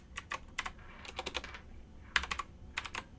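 Fingers type on a computer keyboard in short bursts of quick key clicks, close and fairly quiet, with brief pauses between the runs of keystrokes.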